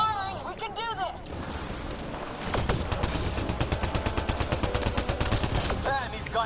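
Rapid gunfire from the sci-fi shooter Mass Effect: Andromeda crackles in quick repeated bursts, growing denser and louder midway, with shouted lines and combat noise around it.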